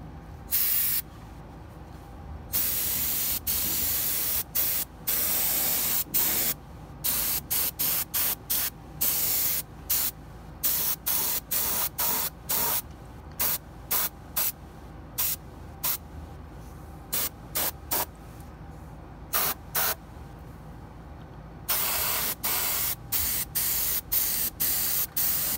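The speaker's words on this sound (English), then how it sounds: "I'm going to be spraying it with olive drab, which is pretty dark" Repeated short bursts of aerosol spray hissing as olive drab paint is sprayed onto a model M4A1 tank kit, some quick and some held longer, loud and close with brief pauses between.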